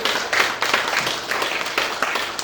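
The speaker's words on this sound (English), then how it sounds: "Is somebody clapping?" Scattered hand clapping from a small group at a book launch, fairly quiet and uneven, with a few claps standing out.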